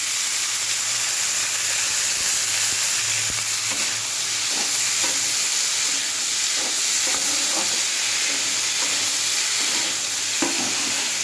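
Potato pieces frying in a pan for a home-style poppy seed dish with onion, giving a steady close sizzle with occasional stirring scrapes and no talk.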